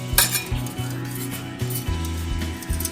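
A knife cuts halfway through a pesto bun on foil with a rhythmic series of short scraping, clinking strokes, fairly close and clear, with no talking.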